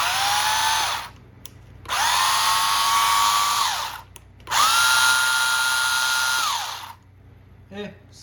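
A cheap SG-1603 RC car drivetrain whines in three loud bursts at half speed, each a high mechanical whir that starts, holds and cuts off, with short pauses between.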